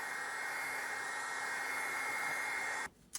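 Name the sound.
heat gun warming roofing material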